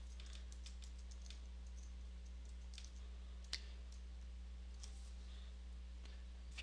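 Computer mouse clicking in a quiet room: a series of light, sharp clicks scattered irregularly over several seconds, close and faint, over a low steady electrical hum, with no talking.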